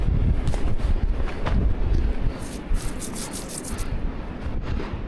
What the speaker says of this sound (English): So the wind is blowing in from this way